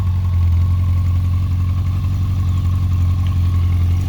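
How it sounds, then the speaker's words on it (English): A 1992 Yamaha XJ600 Seca II with an air-cooled four-cylinder engine idles steadily and close, a low even rumble with a light mechanical clatter, alone and without talk. "These old air-cooled 4-cylinders, they almost kind of sound like a like a small displacement Beetle or something like that."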